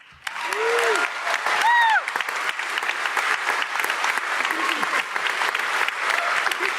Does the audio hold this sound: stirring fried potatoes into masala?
no